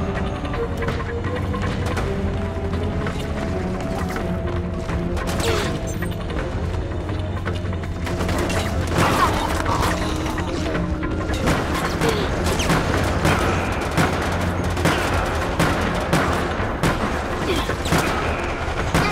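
Gunfire from the video game Resident Evil: Operation Raccoon City comes in repeated sharp bursts and booms, denser and louder in the second half, layered over a droning game soundtrack.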